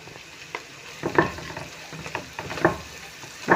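Minced meat frying in a pan for a zucchini casserole, stirred with a utensil: a steady sizzle under repeated scraping strokes against the pan, several distinct stirring bursts spaced about half a second apart, close and moderately loud, no talking.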